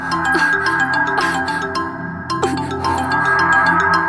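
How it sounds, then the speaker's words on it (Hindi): A mobile phone ringtone plays a bright melodic tune with chiming notes and rhythmic beats, loud and close, with no talking. "लो, फिर फोन आ गया।"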